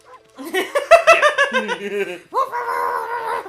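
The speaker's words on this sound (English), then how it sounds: "There it is. Bark button!" A cartoon dog bark from Okami HD on Nintendo Switch, triggered by the bark button: a burst of bright, yippy barks and howl-like tones, followed by a steadier sustained whining call, close and fairly loud.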